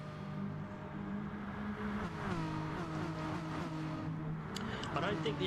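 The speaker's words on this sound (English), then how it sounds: "What a train of cars we got here." Several sim race cars in a close pack at Suzuka East roar continuously with shifting engine tones and brief high tire squeals near the end, under a commentator's voice.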